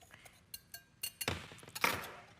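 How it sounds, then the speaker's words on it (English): Whisk clicking against a skillet as ingredients are beaten together, a run of quick, light metallic taps close by that grow busier and louder partway through. "I'm just going to whisk this all together"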